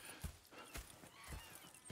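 Horses in Red Dead Redemption 2 clop their hooves in an uneven walking rhythm, soft and fairly close, with no talk over them.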